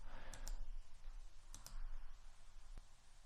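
Typing on a computer keyboard comes through as a few faint, sparse key clicks in short clusters over quiet background hum, with no talking.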